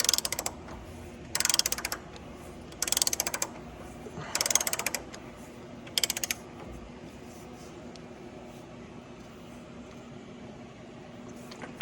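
Five short bursts of ratcheting clicks from a torque wrench tightening a Loctite-coated bolt to 900 on a Gleaner R72 combine final drive, separated by quiet pauses, close and fairly crisp.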